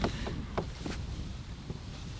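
Wind buffets the microphone during a solo spring ice-out canoe trip on the Lady Evelyn in Temagami: a steady low rumble under a few faint knocks and scrapes, with no talking.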